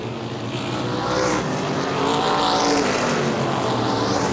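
Modified race cars roar down the backstretch at Baer Field Speedway during a feature event, a loud sustained engine drone that swells and shifts in pitch as the pack passes, heard alone.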